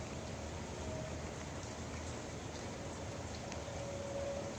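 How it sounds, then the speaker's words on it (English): Steady, soft rain falls continuously, a faint even patter and hiss with no breaks and no voices. "What do you think of the rain, huh?"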